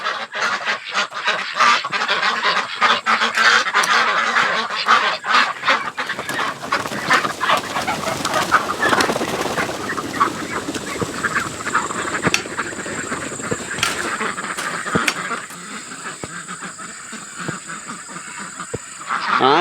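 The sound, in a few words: ducks quacking, wanting out of cage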